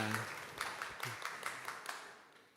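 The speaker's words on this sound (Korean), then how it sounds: "하나님께 영광의 박수 올려드리겠습니다." A church congregation at a Sunday youth worship service claps in a faint, fairly regular rhythm that fades away over a couple of seconds.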